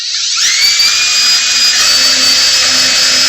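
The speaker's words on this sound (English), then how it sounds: "We're going to drill in there as straight as possible." Power drill boring a strap button hole into a guitar body, a loud steady high-pitched whine that spins up quickly and holds for about three seconds, close and alone.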